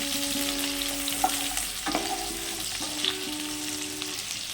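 Four medium potatoes cut into cubes sizzle steadily in hot oil, a dense, continuous crackling hiss with occasional louder pops as they stir.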